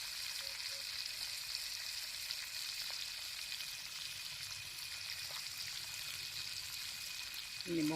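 Fish frying in oil while cooking at a forest campsite: a steady, close, continuous sizzle and crackle holds throughout, ending with a brief clatter.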